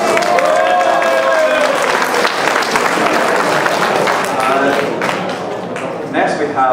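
Audience applause fills a chamber of commerce meeting for the founding of the Taiwanese Chamber of Commerce of Gainesville, Georgia, steady dense clapping from a crowd with chatter and voices mixed in throughout.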